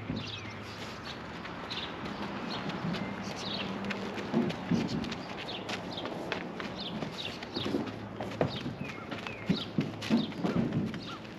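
Horses walking in from pasture toward feeding make soft, uneven clip-clopping hooves throughout, faint and somewhat distant, with occasional bird calls.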